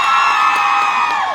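An audience at a family day show cheers and whoops for a contestant, a loud, dense wall of crowd voices that holds steady for about a second before dropping slightly at the end.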